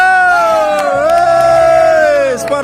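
Students at an inter-class school competition for Teachers' Day at SMPN 1 Pagar Dewa cheer loudly, one long sustained shout over crowd noise, with clapping not clearly audible.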